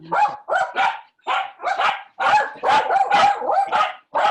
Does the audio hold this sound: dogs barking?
yes